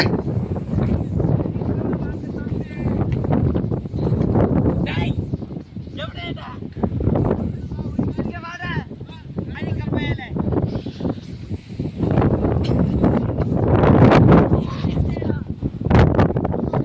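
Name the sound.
wind blowing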